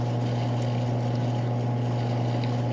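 A pottery throwing wheel spins with a steady, even motor hum and a low droning whir, constant and close with no other sounds.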